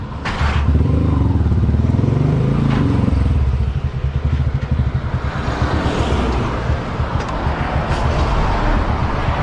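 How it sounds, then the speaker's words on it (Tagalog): A warmed-up motorcycle engine runs steadily at close range, a loud continuous rumble with wind buffeting the microphone and some rattling clatter. "Mainit na yung makina ni Mia."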